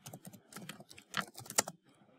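Quick, uneven bursts of keystrokes on a computer keyboard while entering a pip install command, close and fairly quiet, clicking in short runs before a pause.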